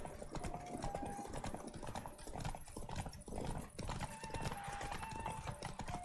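Roach the horse's hooves clopping steadily in The Witcher 3, a continuous rhythmic trot of hoofbeats close up with game ambience and no talking.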